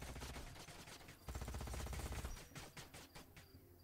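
Troops fire guns in Age of Wonders: Planetfall, producing rapid rattling bursts of gunfire, loud and close, with a dense volley in the middle before it tapers into scattered shots.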